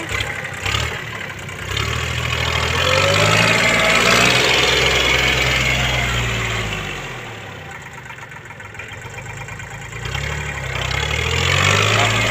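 A used Japanese tractor's engine chugs steadily while the machine reverses, a close, loud low rumble that swells and dips as it moves, with a man calling out over it.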